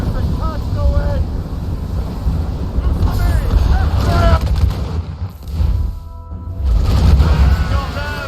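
Ship cannon fire during a naval fight in Assassin's Creed Rogue, deep low booms rolling under strong wind and sea noise, with voices calling out over the action.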